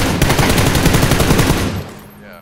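Rapid automatic gunfire in PUBG, aimed at a moving player, rattles loud and close in a dense burst for about two seconds before cutting off.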